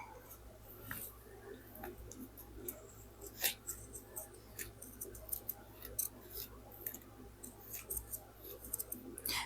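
Scissors snip through quilting fabric for a collage quilt, quiet intermittent cuts and clicks scattered across a soft room background.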